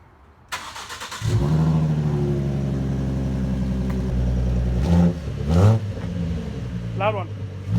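A 2012 Ford Mustang V6 with a Magnaflow race series axleback exhaust starts, settles into a deep rumbling idle, then barks through two or three sharp revs close by. A voice speaks briefly near the end.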